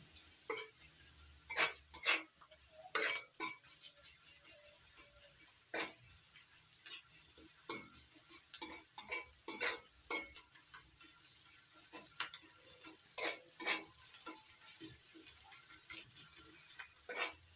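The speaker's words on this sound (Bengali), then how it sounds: "এবার পেঁয়াজ রসুন কালো জিরে সব একসঙ্গে ভালো করে ভেজে দিচ্ছি" Onion, garlic and black cumin fry in a pan under a faint, steady sizzle, with scattered sharp clicks and scrapes of a utensil against the pan in irregular bursts.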